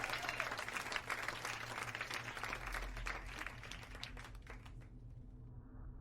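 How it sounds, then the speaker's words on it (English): Applause for a contest winner on a game stream, a dense patter of clapping that carries on steadily for several seconds, then thins and fades out. "Everyone give him a round of applause"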